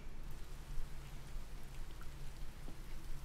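Rain in the farming game Coral Island falls as a soft, steady hiss of drops at low volume throughout, with no voices.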